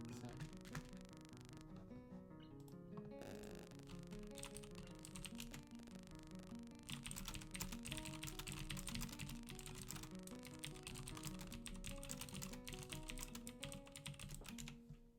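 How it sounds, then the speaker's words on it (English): Rapid clicking keystrokes on a mechanical computer keyboard, quiet and close, continuing throughout over a layer of background music. "I have a mechanical keyboard, which I adore. But it is a little bit more noisy."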